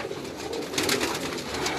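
Pigeons on a Karachi rooftop loft give a soft, brief cooing murmur, close and continuous, with no talk over it.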